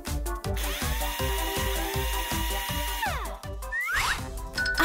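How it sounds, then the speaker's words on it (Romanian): A power drill tightens screws in quick, rhythmic bursts of whirring, about a dozen short pulses close by, ending in a rising, swooping whine. "Ține-l și eu strâng șuruburile!"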